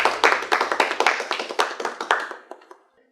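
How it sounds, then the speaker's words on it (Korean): Small group clapping to open a citizens' discussion session: a burst of close, sharp hand claps with a loose rhythm that thins out and fades to silence within a few seconds. "이야기장을 한번 큰 박수로 시작해 볼까요?"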